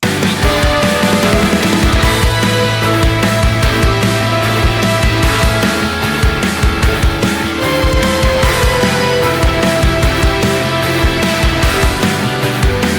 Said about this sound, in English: I decided to do that with strings, French horns, and piano